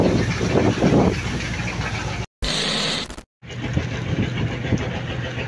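Vehicle engine droning steadily while underway on the road from Surigao to Placer, a constant mid-pitched hum with road and wind noise, broken by two brief dropouts.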